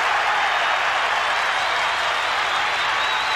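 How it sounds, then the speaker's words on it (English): A football crowd at the Western Oval roaring after a goal in a 1992 Footscray v St Kilda match, heard as a steady, loud wall of cheering and applause that fills the whole moment. "And the crowd love it out here at the Western Oval. They've gone berserk."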